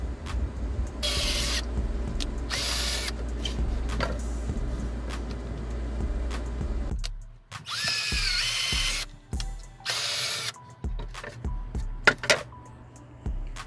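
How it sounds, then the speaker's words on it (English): A power drill pre-drilling wood whirs in several short bursts, loud and close, with clicks and handling noises between runs and a steady motor hum underneath. "Here is where I mark where I will be pre-drilling."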